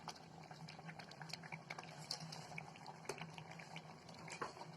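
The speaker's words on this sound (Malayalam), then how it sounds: "കാളം കൂട്ടാൻ തിളച്ചിട്ടുണ്ട്" A pot of Kerala yam kurukku kalan simmering on a low flame, with soft, steady bubbling and scattered small pops under a faint background hum, close by and quiet.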